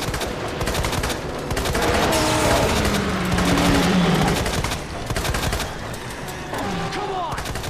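Rapid, loud gunfire aimed at an enemy in Resident Evil 2, with dense bursts of shots mixed with game effects, continuing throughout with little pause.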